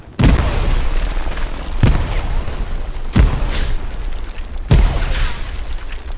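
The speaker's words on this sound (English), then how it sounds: "The amount of nades." Grenade explosions in Hell Let Loose: four loud, booming blasts spaced about a second or more apart, each a sharp crack followed by a long rumbling tail that fills the gaps between them.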